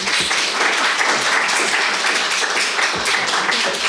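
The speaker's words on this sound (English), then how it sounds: "Quick round of applause, and then we'll take some questions." An audience at a generative AI summit in Oxford gives a quick round of applause, loud dense clapping that holds steady for about four seconds.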